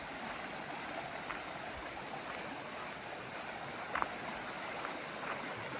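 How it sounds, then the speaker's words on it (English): A mountain creek flows nearby in a steady, soft broadband rush, continuous and fairly quiet, with occasional faint ticks over the water noise. "But this is the creek."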